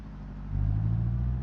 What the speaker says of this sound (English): So clutch off slowly, give it some revs, and that's how you pull off.